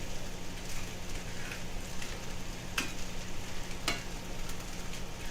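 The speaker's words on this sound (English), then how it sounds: "a little more oil in there. Get a couple eggs going." Eggs fry in oil in a pan, cooking pork fried rice, with a quiet continuous sizzle and two brief sharp crackles or clinks partway through, fairly faint, no speech.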